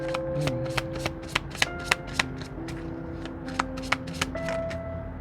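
Tarot cards shuffled and drawn by hand close up, with a quick run of crisp riffling snaps and soft slides over a steady low background hum.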